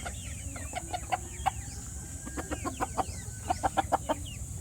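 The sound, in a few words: chickens clucking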